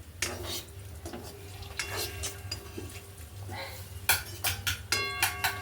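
A metal ladle stirs and clinks inside a pan over faint sizzling oil, with a steady low hum underneath and a quick run of sharp metallic taps toward the end.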